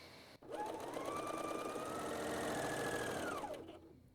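A BERNINA L 660/L 650 overlock machine sews a stretchy seam in a short, continuous run. It whirs up quickly, holds an even, close mechanical hum for about three seconds, then winds down to a stop.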